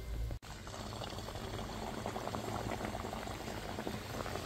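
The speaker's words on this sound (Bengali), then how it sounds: "একসাথে দুটো নিমকি দিয়ে ভাজবো।" Two Bengali nimki pastries deep-fry in hot oil, a dense, steady bubbling sizzle heard up close after a brief dip at the start, with no voices.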